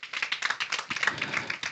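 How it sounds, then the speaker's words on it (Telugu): People at a Christian memorial gathering clap their hands in quick, uneven bursts, a small group close by with brisk rhythmic claps. "గట్టిగా చప్పట్లు కొట్టండి."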